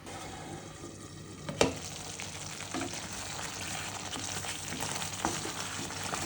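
Egg pulusu curry sizzles steadily in a pan, a soft continuous crackle with one sharp clank near the start, and no talking.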